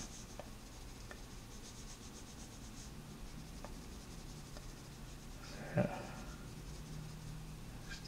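Pencil shading strokes on paper, very faint soft rubbing scratches repeating quietly and close, with one slightly louder scrape near the end.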